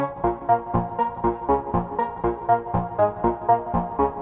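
A MIDI instrument plays a bouncy repeated pattern of plucked notes in a steady quick rhythm, clean and moderately loud with no voices.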